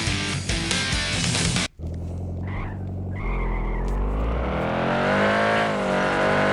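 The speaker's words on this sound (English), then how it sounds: "I think it has some very good car effects for a free game" A car engine in a free mobile car-crash video game revs loudly and rises steadily in pitch, with a tire skid and a brief cutout early on, all close and without talk.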